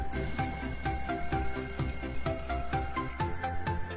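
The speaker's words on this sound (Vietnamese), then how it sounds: "Một lát sau, đồng hồ báo thức đến giờ tiêm thuốc của ông ta đổ chuông." An alarm clock in a film rings in rapid repeated metallic bursts, bright and steady, with a faint high tone.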